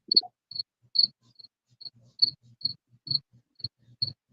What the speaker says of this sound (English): Whatever the cricket's saying.